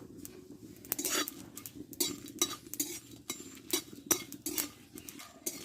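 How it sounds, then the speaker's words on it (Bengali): Dry red chillies roasting in a pan for a mango and jaggery pickle, heard as rhythmic scraping and clinking of a spatula stirring against the metal pan, close up with no voices. "কিছুটা শুকনো লঙ্কা ভেজে নেব"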